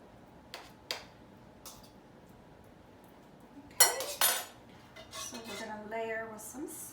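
Rice layered in a baking pan for rice lasagna, packed down with a few soft taps early on, then a louder clatter of the pan and utensils against metal midway, followed by a light scraping, clinking stretch.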